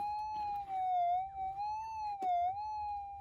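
Metal detector held over a buried target while prospecting for gold gives a steady, sustained tone that wavers slightly in pitch, alone and fairly close for a few seconds.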